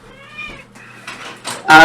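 A house cat meows in a short series of rising, whiny calls, close and clear, ending with a louder meow, with quiet background sound at a tabletop role-playing session.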